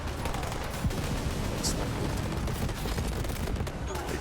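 Dense, continuous gunfire from a gun in a Mad Max video game, loud bursts merging into a constant roar of rapid shots and engine-like rumble, with a voice speaking briefly over it.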